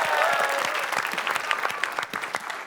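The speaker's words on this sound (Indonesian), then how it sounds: "Ya udah kita berikan tepuk tangan." Applause from a studio audience on an Indonesian comedy show, a dense steady patter of many hands clapping together, with voices calling out faintly beneath it.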